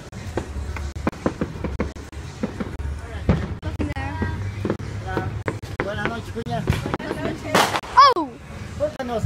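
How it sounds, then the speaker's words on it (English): Sharp cracks and pops from fireworks burst repeatedly at varying distances, with whistling streaks rising between them, while people talk throughout. "someone's firing fireworks over here"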